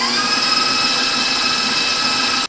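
An electric mixer whips a soft mixture until fluffy for a cherry dessert, giving a loud, steady, high motor whine that runs alone without a break and cuts off at the end.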